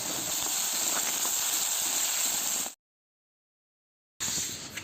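Tomatoes frying with cumin and coriander powder for homemade atta pasta give a steady, loud hiss and sizzle that cuts out to silence partway through, then resumes.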